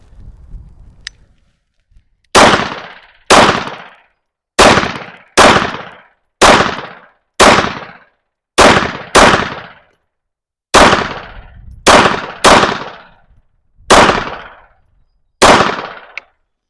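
Beretta Cheetah 80x pistol fired at an outdoor range, twelve loud, sharp shots spaced a second or two apart, each with a brief decaying echo, after a faint handling noise at the start.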